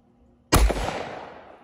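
Single loud, close blast of a Citadel 12 gauge semi-automatic shotgun firing outdoors, sharp onset after a quiet moment followed by a decaying rumble.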